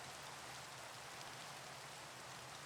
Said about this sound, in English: if I could turn the rain sounds down